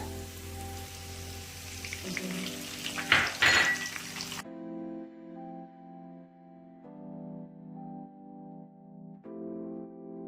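Curry leaves go into hot oil for masala mandakki, a spiced puffed-rice dish, giving a loud, crackling sizzle that swells into a brief burst, then cuts away to steady music.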